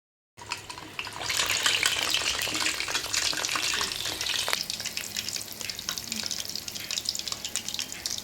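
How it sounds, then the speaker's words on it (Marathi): Urad dal vadas deep frying in hot oil, a loud bubbling sizzle that starts abruptly and stays dense and crackling, easing slightly partway through, with faint speech now and then. "आता वडे तळायच्यात."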